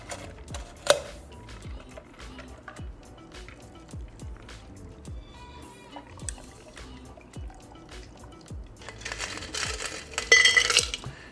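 An iced tea cocktail strained into a tall glass packed with ice: a series of soft ticks and clinks, trickling liquid and ice shifting, faint and close, then a louder burst of pouring and crackling ice near the end.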